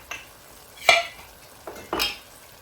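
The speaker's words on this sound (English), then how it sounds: "we're going to add in our quart of bone broth" Bone broth is poured into a pot of Cajun chicken in a few quick splashing bursts that sizzle against the hot bottom. Each burst is close and brief, with quiet gaps between, and no talking.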